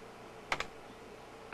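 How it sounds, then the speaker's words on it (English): A few key presses on a 1997 computer keyboard: two quick clacks in close succession, then a single clack a second later, close and crisp in a quiet room. "give me a second to type this in here"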